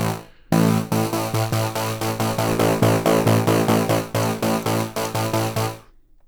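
A Vital software synth patch built to mimic a Prophet 5, its bright tone morphing like frequency modulation, plays a steady run of rapid repeated notes, loud and close, ending in a short fade.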